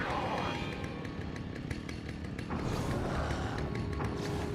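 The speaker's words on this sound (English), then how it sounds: "let the sound designer like go buy a chainsaw for this audio" Chainsaw engine from a video game running loud and steady, revving harder partway through, with a continuous buzzing drone and no talk over it.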